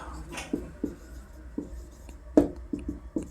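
Chalk or marker writing on a board for a chemistry lesson, a series of short, sharp taps and strokes in an irregular rhythm, close and clear with no talk.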